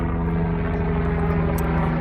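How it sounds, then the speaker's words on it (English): An airplane drones steadily overhead, a loud, constant engine hum with a strong low tonal rumble that holds unchanged throughout, and no speech. "I know y'all probably can't hear me over this airplane"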